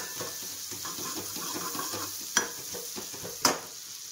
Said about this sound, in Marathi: आता ह्याच्यामध्येच ना ठेचलेलं लसूण चांगलं याला ना तळून देणार आहे